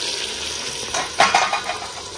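Chopped tomatoes tip into a pan of browned onions, setting off a steady hiss of frying with a few stirring scrapes and spatters, close and moderately loud.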